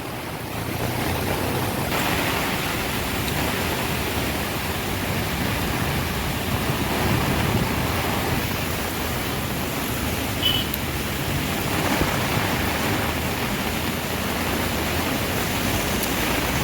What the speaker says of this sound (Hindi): से ही धुआंधार बारिश बरस रही है